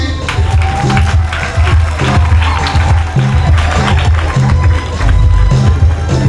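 A church crowd claps and cheers as children hand a gift to the bishop, producing a loud, busy wash of applause and murmuring voices over a low rumble that persists throughout.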